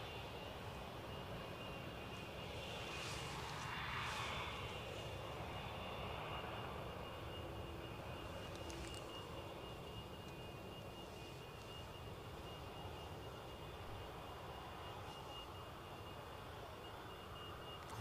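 Saudia Boeing 787-10 Dreamliner at Newcastle Airport, a steady distant jet engine rumble and whine holding evenly throughout, with no clear rise or pass-by.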